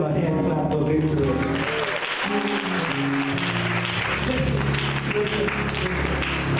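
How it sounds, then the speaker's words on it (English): A church congregation claps hands together during an anniversary service, with loud continuous clapping mixed with voices and a sustained musical tone underneath. "Give him a hand clap for victory."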